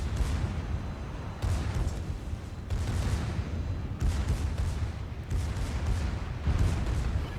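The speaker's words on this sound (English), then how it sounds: "Musashi obviously shooting at the Massachusetts" The battleship Musashi's big guns fire in World of Warships, heavy deep booms that roll over one another in repeated salvos, with a constant low rumble between blasts.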